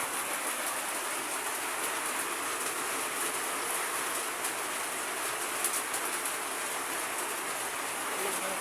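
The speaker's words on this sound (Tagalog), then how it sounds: "lakas na naman ng hangin at saka ulan" Heavy rain pours down at night while wind blows. It makes a dense, steady hiss with no breaks, fairly loud and close, and patters on a nearby surface.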